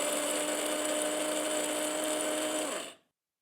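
An electric spice grinder whirs loudly and steadily while it grinds an Ayurvedic spice blend for a Pitta constitution. It runs close to the listener for about three seconds, then cuts off abruptly to silence.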